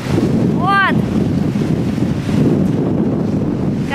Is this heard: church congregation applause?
no